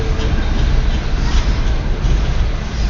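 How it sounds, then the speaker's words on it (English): A long CN freight train rolls past very slowly, a loud, dense rumble with grinding rail noise that stays continuous and close, with faint voices. "He says a very slow moving train."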